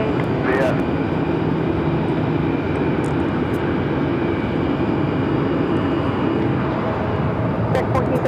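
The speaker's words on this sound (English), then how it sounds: "Flight taking off is heading to Detroit, Michigan. American Airlines Flight 1433 is 737-800." An American Airlines Boeing 737-800 takes off, its broad steady engine roar filling the air throughout, with faint voices underneath.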